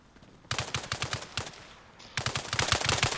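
Rapid bursts of automatic gunfire in the military shooter game Arma Reforger, set in a jungle, with loud evenly spaced shots in two strings separated by a brief lull.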